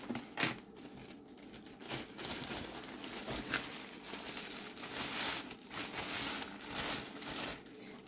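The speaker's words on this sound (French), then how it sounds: "Alors, je m'équipe de mes ciseaux. Je vais faire ça proprement." Scissors cut open a padded bubble envelope up close, making a run of crisp snips, crinkles and papery tearing that come in quick, irregular bursts at low volume.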